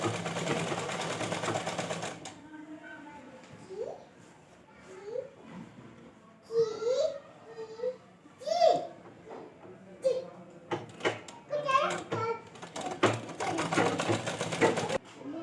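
A sewing machine runs in short bursts while a ghagra belt is stitched, loud at the start and end and broken by quieter gaps, with someone talking and children's voices in the background.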